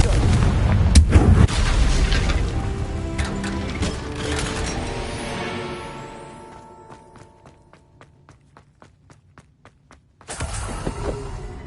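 A Confringo fire curse blast in Hogwarts Legacy, heavy booming impacts and crackling at the start fading into a series of sharp ticking clicks, then a loud burst returning near the end.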